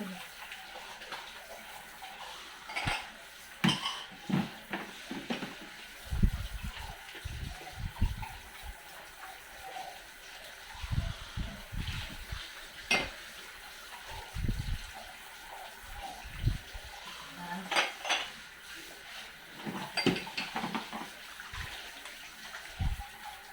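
A heap of dishes and glasses is washed with Joy dish soap under running tap water, with repeated splashes and gushes rising and falling over a steady trickle at close range.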